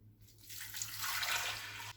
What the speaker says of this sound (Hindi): और इसमें मैं ऐड करूँगी 2 कप पानी।